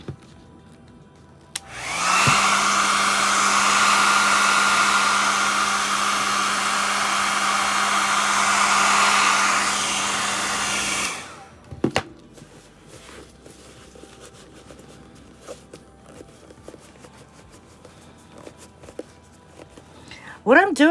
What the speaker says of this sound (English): I'm going to blast some heat on it again.